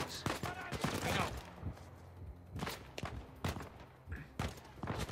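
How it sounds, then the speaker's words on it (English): Gunfire aimed at the player in Uncharted 4: A Thief's End: repeated sharp shots and bursts, several loud and close, scattered across the clip with a speaking voice in between. "I'm being shot at"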